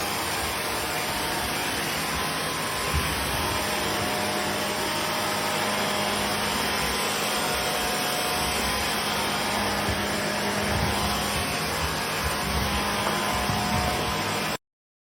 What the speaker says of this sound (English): My little Hoover from Shark.